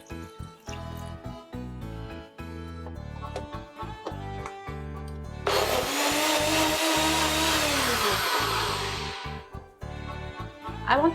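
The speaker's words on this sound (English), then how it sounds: "let's blend our cauliflower" A kitchen blender whirs loudly for about four seconds, puréeing cooked cauliflower with coconut milk for a vegan white sauce, its motor pitch dipping as it spins down, over rhythmic background music.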